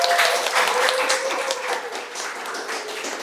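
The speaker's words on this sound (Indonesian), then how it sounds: "beri tepuk tangan dulu untuk Ica." Classroom applause for a student named Ica after she answers a biology question, a steady patter of many hands from a small group of pupils, moderately close, slowly fading over a few seconds.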